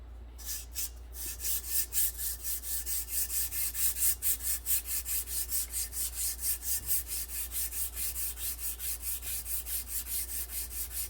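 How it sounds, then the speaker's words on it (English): Emery cloth wrapped with electrical wire polishing the brake shaft of a 1946 Ford sedan, a steady back-and-forth rasping rub repeating about four times a second, fairly quiet over a low hum. "wrap a piece of electrical wire several times around the emery cloth, or you could use 400 grit sandpaper as well"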